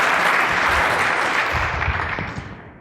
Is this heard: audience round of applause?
yes